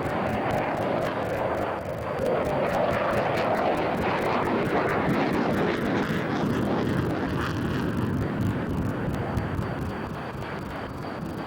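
A Dassault B-01 two-seat prototype jet with Snecma M88-2 augmented turbofans roars past at the Farnborough air show, a loud, sustained engine rush that eases slightly near the end.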